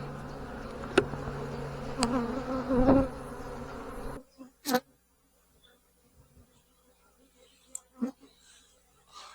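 Honeybees buzz faintly during a hive inspection, with soft intermittent humming and a few sharp knocks and handling noises, most of it in the first half before the clip drops to near quiet.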